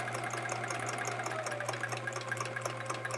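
A sewing machine runs continuously in free motion quilting on a scrap-fabric chevron quilt, a close, even whir with a steady low motor hum and no voices.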